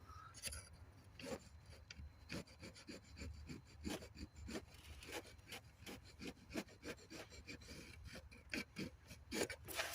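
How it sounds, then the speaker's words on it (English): Small hand file drawn repeatedly across the front lip of a part on a Range Rover 3.0 diesel, making steady rasping strokes in an even back-and-forth rhythm, close and fairly quiet with no talking. "I'll just use a little small hand file there for that, and I'll just run it all the way across the front there, that little front lip."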